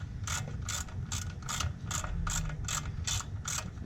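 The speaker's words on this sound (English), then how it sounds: "Now we're slowly taking off all of the bolts holding the clutch to the flywheel." A ratchet clicks in steady, evenly spaced bursts while clutch-to-flywheel bolts are backed out on an Audi A4, the crisp pawl ticks close and clear over a low background rumble.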